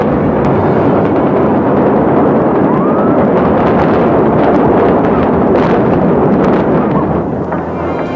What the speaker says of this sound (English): the famed sign and hotel were timed to implode with the cannon blast